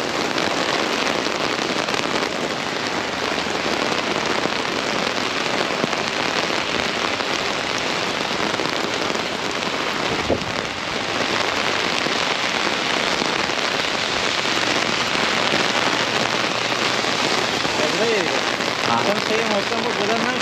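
Steady, dense rain pours down throughout a walk outdoors, a continuous hiss of drops hitting surfaces close by with no break.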